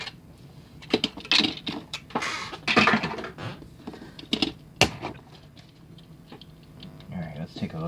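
Close crinkles, clicks and taps of plastic packaging being opened and handled to free a ChoroQ Kodawari toy car, a tooned Mitsubishi Lancer Evo7, in uneven bursts with quiet gaps.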